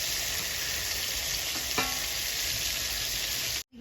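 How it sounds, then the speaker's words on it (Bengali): Lote fish fries in a pan of hot oil, a steady dense sizzle running evenly throughout with a faint clink midway, close and alone with no talking. "এদিকে মাছ ভাজা হচ্ছে"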